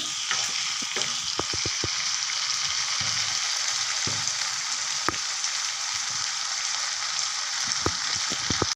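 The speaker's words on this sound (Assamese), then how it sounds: "এনেও অলপ বেছিকৈ ভাজিব লাগে, সেয়েহে মই মাজে মাজে লৰাই আছোঁ।" Local chicken sizzles and frys steadily in a pan, with a dense continuous crackle broken by scattered clinks and scrapes of a utensil stirring the meat throughout.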